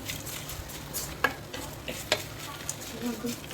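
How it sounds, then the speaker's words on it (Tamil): Drumstick leaves being sautéed in oil in a pan for a thuvaiyal, with a faint steady sizzle and a couple of sharp spatula scrapes and clicks against the pan, quiet and close with no talking. "இன்னும் கொஞ்சமாக ஆயில் விட்டுக்கலாம். இன்னும் கொஞ்சம் நேரம் வதக்கலாம்."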